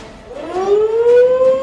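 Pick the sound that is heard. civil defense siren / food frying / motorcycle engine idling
civil defense siren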